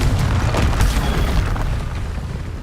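Confringo fire spell blasting in Hogwarts Legacy, a loud booming explosion with a sustained rumbling burst and crackling debris that slowly trails off, with no talk.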